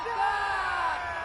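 Cricket fielders making a loud appeal, a brief sustained chorus of raised voices shouting together, loud and close.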